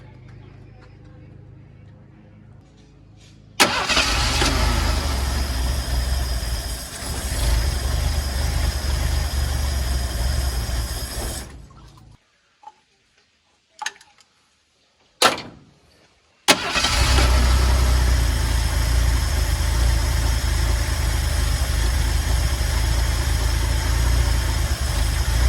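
A car engine with a freshly adjusted carburetor cranks and catches, runs for several seconds, then cuts out. After a couple of brief sputters it restarts and settles into a steady, close idle.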